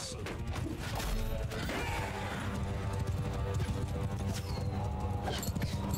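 Horse hooves gallop and clatter in a Mount and Blade Bannerlord battle, a dense, fast rhythm of thuds under a continuous din of combat noise.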